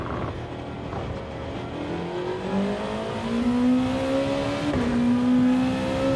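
Race car engine in a racing video game climbing steadily in pitch under acceleration, with a quick shift and continued rising whine, loud and close throughout.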